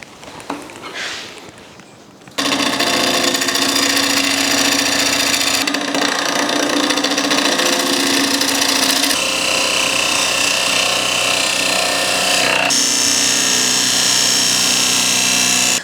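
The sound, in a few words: woodturning a wooden platter on a lathe with a bowl gouge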